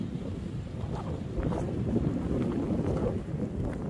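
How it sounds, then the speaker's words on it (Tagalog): Strong wind roars steadily across the microphone outdoors in Canada, a dense, continuous rumbling rush with gusty swells and no pauses. "Oh, malakas yung hangin."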